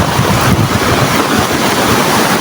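A swollen river near overflowing, its strong current rushing past a bridge, a steady loud broadband roar of churning water with no voices.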